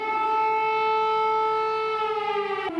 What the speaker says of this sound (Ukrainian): Прес-конференцію у Києві перериває повітряна тривога.